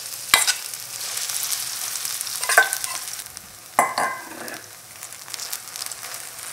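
Kimchi pancake batter fries in a generous layer of corn oil, crackling and hissing steadily, while a utensil scrapes and knocks against the pan a few times.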